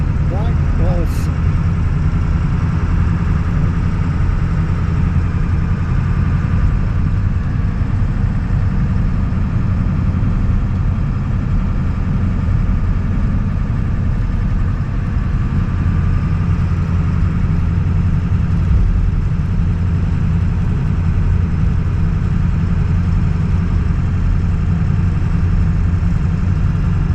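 A car engine climbs a grade on the Blue Ridge Parkway in a lower gear, a steady close drone with a low hum and road noise under occasional talk inside the cabin.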